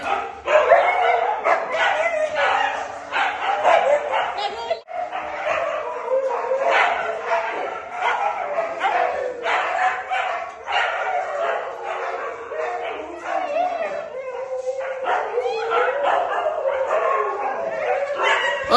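Several dogs bark and yip excitedly in a continuous, overlapping clamor, close and loud, with occasional higher whines mixed in.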